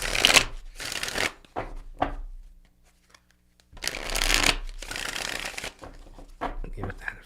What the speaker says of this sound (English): Give that a few shuffles.